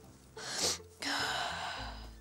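A woman sneezes once, a short sharp burst followed by a quick breathy intake and fading exhale, close and fairly quiet, in a television drama scene with no talk.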